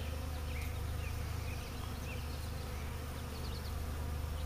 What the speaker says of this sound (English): the honeybees that are working on the hive itself are too busy working on the hive to be bothered with anything